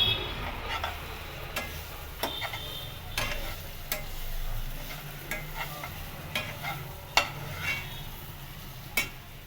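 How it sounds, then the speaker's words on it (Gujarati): Dry dates roast in ghee in a kadai while being stirred, a soft, steady sizzle broken by repeated sharp scrapes and clicks of the spoon against the pan. "બે મિનિટ તેને ઘીમાં શેકી લેવાનું છે."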